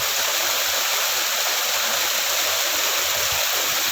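A strong water current rushes through a lagoon, giving a steady broadband rushing and gurgling that stays even and fairly near throughout, with no talk.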